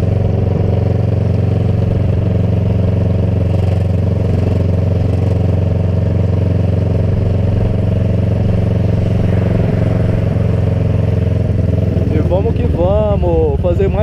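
A Kawasaki ER6N motorcycle engine runs loud and steady throughout, with a rising rev building near the end, while someone talks over it.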